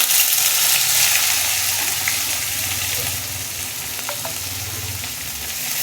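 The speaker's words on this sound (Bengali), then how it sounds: "এবার আমি দিয়ে দেবো কুচনো পেঁয়াজ।" Chopped onions hit hot oil after green chillies have been tempered, giving a loud, continuous hissing sizzle that eases slightly halfway through, with faint clinks of stirring.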